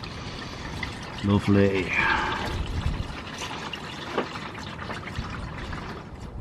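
Engine oil drains from the sump of a BMW 760Li with the N73 engine into a pan, a continuous liquid pouring and trickling sound under a voice, with a short clatter early on.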